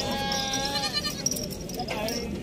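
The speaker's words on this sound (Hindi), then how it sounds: "अच्छा, ये बकरा है।" A Barbari teddy goat bleats in a farm setting, a wavering cry at mid-distance with people talking over it.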